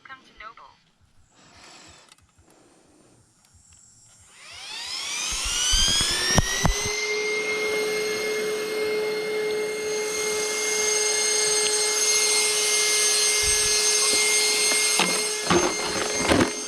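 An Arrma Outcast 12S RC car with Typhoon fans, running on 6S, spins up after a few quiet seconds into a loud, steady high-pitched electric whine with rising tones, holding near and constant with brief clicks at the end.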